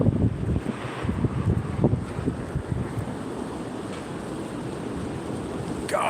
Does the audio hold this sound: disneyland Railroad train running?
no